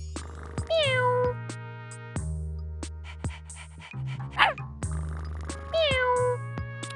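Two clear cartoon cat meows from a kids' pet-balancing learning game, one near the start and one near the end, over a steady game music loop with light clicks and a brief sweeping effect in the middle; no talking.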